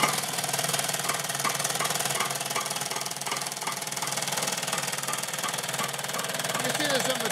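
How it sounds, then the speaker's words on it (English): An 18-inch Sweco multi-deck sifter running on 115 volts gives off a steady, dense mechanical rumble and rapid vibrating chatter at close range, with faint voices in the background. "What we're showing you today, this is an 18-inch Sweco sifter."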